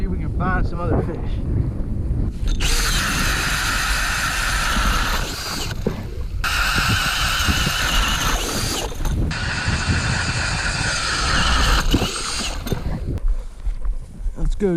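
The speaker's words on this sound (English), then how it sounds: "Gonna drill some more holes and see if we can find some other fish." A power ice auger whines in several long bursts close by, drilling holes in lake ice for fishing, with gritty grinding over a constant engine drone and wind buffeting.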